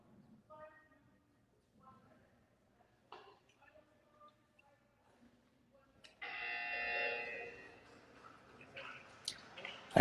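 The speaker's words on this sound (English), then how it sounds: "I actually now know what that buzzer is. It's apparently a shot clock" A shot clock buzzer sounds from upstairs in a quiet boccia sports hall, a loud sustained electronic tone of about three seconds following scattered faint clicks and knocks.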